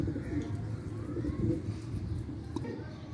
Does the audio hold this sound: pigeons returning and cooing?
yes